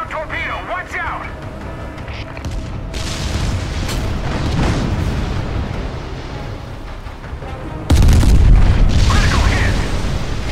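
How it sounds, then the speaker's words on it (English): Torpedo explosions from the naval combat video game Steel Ocean, heavy booming blasts layered over continuous battle rumble, with a loud, close impact near the end of the sequence. "Inbound torpedo, watch out!"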